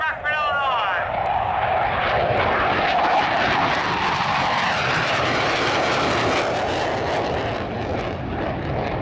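An F/A-18 Hornet's twin GE F404 turbofan engines spooling up to maximum power at a demonstration at an airport in Rockford, Illinois, a loud, sustained roaring jet rush with a rising whine at the start and an announcer talking over it.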